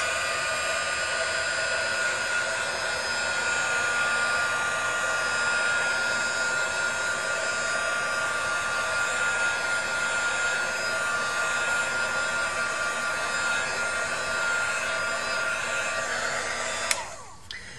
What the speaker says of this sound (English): Now I'm going to heat this up to dry it.